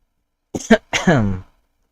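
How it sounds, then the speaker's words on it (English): A person coughs and clears their throat during a casual stream: two quick, close-up rasping bursts followed by a short voiced hum, with nothing else around them. "Still coughing."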